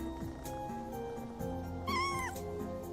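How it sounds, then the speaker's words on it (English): A cat gives a single clear meow over a steady background of music or game sound. There is no separate purr that can be picked out. "Kitty. I hear purring."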